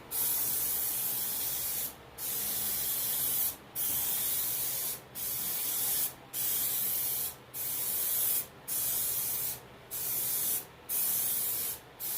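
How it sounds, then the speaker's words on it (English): Heavy coats of spray paint go onto an Ibanez Gio guitar body for a goldtop finish, eight or so loud, close hissing bursts of a few seconds each, separated by brief pauses. "Spray on heavier coats now that my light base coats are on."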